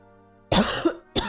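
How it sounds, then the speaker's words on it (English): Two sharp, close coughs, the first longer and rougher, the second brief, after a moment of near silence. "Stop coughing. I can't."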